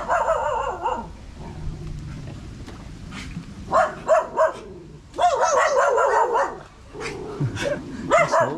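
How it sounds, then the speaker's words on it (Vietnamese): A dog barks in sharp, repeated bursts and clusters, close and fairly loud, along a rural canal in Dong Thap, Vietnam, with short pauses between volleys and some low background rumble. "Sủa quá sủa."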